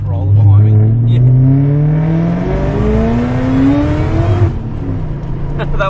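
A supercharged Ford Falcon XR8 pulls hard through the gears on a mountain road, the engine note climbing loudly with a gear change partway, heard from inside the car as people talk over it.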